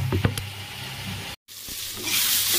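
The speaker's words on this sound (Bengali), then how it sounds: "সর্ষে ফোড়ন দিলাম, শুকনো লঙ্কা, সর্ষে ফোড়ন" Mustard seeds and dry red chillies spluttering in hot oil for a Bengali tempering, a crackling sizzle with a brief dropout before it swells into a brighter, louder hiss.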